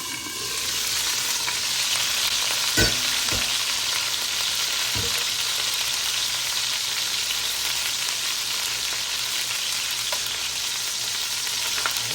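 Chicken for Filipino adobo sizzling in very hot olive oil in a covered pan, a steady loud frying hiss with scattered pops and a couple of faint knocks, no voices.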